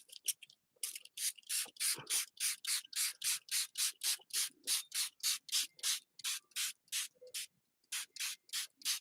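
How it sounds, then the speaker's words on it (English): A small spray bottle spritzes water over and over in a steady run of short, crisp hisses, about two or three a second with brief pauses, close up with no talking. "Spritz bottle."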